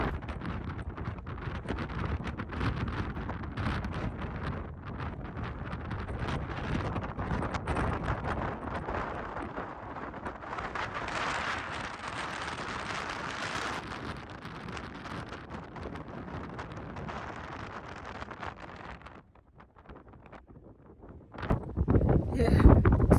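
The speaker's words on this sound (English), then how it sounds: "super windy. It's crazy." Strong wind gusts buffet the microphone outdoors beside a lake, a steady roaring rush that swells and dips for most of the stretch, dropping briefly near the end before surging back loud.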